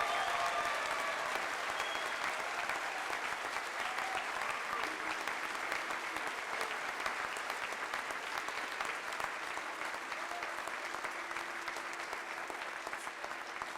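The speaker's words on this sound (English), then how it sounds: "let's take a moment and recognize all of these students with a round of applause" Sustained audience applause at an honors convocation for top students, dense and steady throughout with a faint crowd murmur beneath, gradually tapering slightly toward the end.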